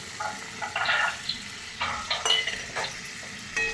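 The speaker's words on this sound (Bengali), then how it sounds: "এবারে আমি সিদ্ধ রাজমাটা দিয়ে দিচ্ছি। আমি একটু রাজমা সিদ্ধ জল দিয়ে দিচ্ছি।" Boiled rajma beans and their cooking water go into a hot pan with oil, giving bursts of hissing sizzle and wet stirring scrapes in short uneven surges, close and fairly loud.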